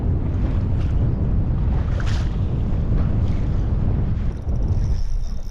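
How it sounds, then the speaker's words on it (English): Strong wind gusts buffet the microphone out on a Minnesota lake during fishing, a loud steady roar with rumbling low-end buffeting and no talk. "Where is this random wind coming from?"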